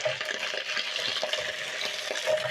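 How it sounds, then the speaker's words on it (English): Beef ossobuco searing in a hot pan gives a steady close sizzle and crackle, with faint stirring or shifting noises and no voices. "I'm going to check how the ossobuco is searing"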